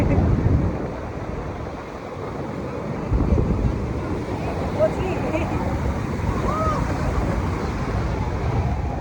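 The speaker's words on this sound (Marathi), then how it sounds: "मोठ्या मोठ्या लाटा आहेत." Ocean surf at Kashid beach near Alibaug, a continuous low roar of waves breaking and washing in, heavy wind buffeting the microphone, with faint voices under the rush of water.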